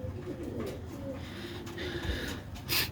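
A Sialkoti Batera pigeon with purple-blue feet coos in low, soft murmurs that continue steadily through the short stretch, with some faint background noise.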